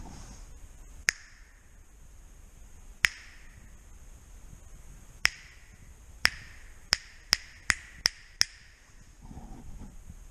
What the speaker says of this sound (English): You just snap your fingers and we'll be good.